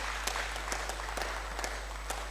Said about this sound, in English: A round of applause for us.